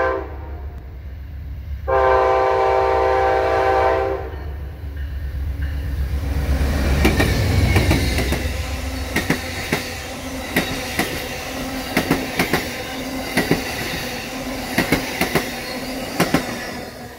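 The Carolinian passenger train P079 passes southbound. A loud horn blast comes first, then a rising rumble as the train nears, followed by repeated rhythmic clickety-clack of wheels over rail joints as the cars roll by.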